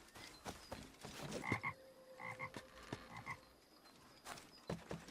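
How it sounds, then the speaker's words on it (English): Frogs croak in a bayou within Assassin's Creed Liberation Remastered, a scattered run of short throaty calls repeating at uneven intervals over a soft ambient bed, fairly quiet overall with no talking. "Frogs."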